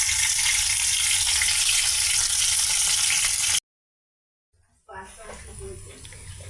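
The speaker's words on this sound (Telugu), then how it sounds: "ఇక మీడియం ఫ్లేమ్ మీద ఇవి ఫ్రై అవుతాయండి" Masala-stuffed round brinjals fry in oil over a medium flame, a loud, dense sizzle heard up close that cuts off briefly and returns as a steady crackle.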